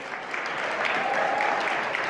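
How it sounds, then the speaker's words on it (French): Audience applause fills a gala hall at the opening of a student event, a steady dense wash of clapping with no break, loud and close. "Applaudissements s'il vous plaît pour Guillaume Kramer"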